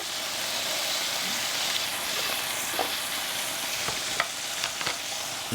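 Onions sizzle steadily on a Ninja Foodi Pro XL griddle, a dense continuous frying hiss with occasional faint scrapes and clicks, close and even in level throughout.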